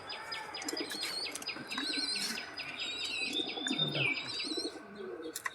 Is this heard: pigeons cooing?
yes